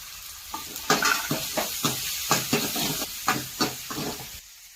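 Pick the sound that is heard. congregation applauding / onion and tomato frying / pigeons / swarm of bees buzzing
onion and tomato frying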